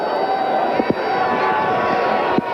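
Sellout stadium crowd at a Lafayette-Lehigh college football game, a steady broad roar of cheering and crowd noise from more than 18,000 fans, with a couple of brief thumps and voices mixed into the din.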